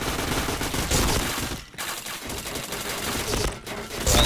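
Dense, rapid automatic gunfire from a video game, loud and continuous with a couple of short pauses, under faint talk.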